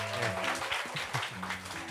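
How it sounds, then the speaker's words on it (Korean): Applause from a church youth worship service audience, a steady patter of hand claps lasting about two seconds, moderately loud with some voices mixed in. "박수 소리가 조금 작은 것 같은데 더 크게 한 번만 더, 예, 축복의 박수"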